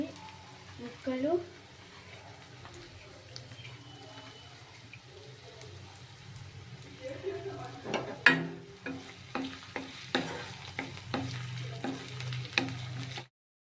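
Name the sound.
frying green chillies, ginger and garlic pieces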